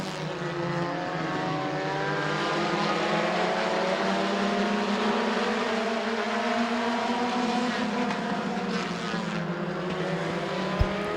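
Race cars roar around the Midvale Speedway track during a heat race, a loud continuous engine drone rising and falling in pitch as the cars pass.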